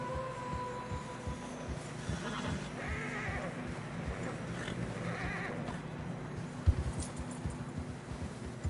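Horses in the video game Red Dead Redemption 2 whinny faintly and snort while their hooves thud softly through fresh snow, low and fairly quiet, with a single sharper knock near the end.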